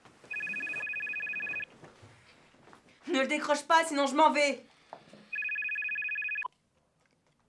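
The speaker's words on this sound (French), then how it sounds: "Le téléphone sonne." A telephone rings in two long bursts of steady electronic ringing, loud and close, with a man and someone briefly talking in French between the rings.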